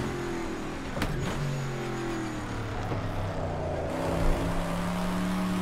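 Race car engine in a Bathurst racing video game, revving and changing pitch steadily across the lap with a sharp shift near the start and the note climbing again toward the end, loud and continuous with no talk.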